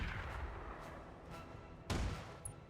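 Weapons fire from a Marauder mech hammering an Atlas mech in the BattleTech game RogueTech: a low, rumbling barrage throughout, then a sharp, heavy blast near the end.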